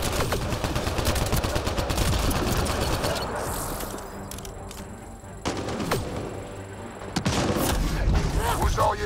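Gunfire in Mass Effect: Andromeda, with bursts of rapid automatic shots and booming blasts that thin out in the middle and return loud near the end, mixed with game sound effects.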